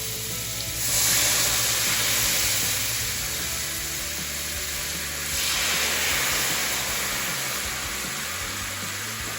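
Lemon juice, capers and butter bubble and reduce in a hot pan, a steady broadband sizzle with two louder hissing swells, close and continuous with no talk.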